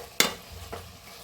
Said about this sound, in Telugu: యాలకుల పొడి వేసుకొని మొత్తం కలిసిపోయేదాకా కలుపుకొని